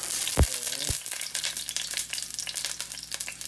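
Garlic sautés in hot oil for Ilocano pork igado, a steady close sizzle with crackles, opening with a couple of sharp knocks of the pan or utensil.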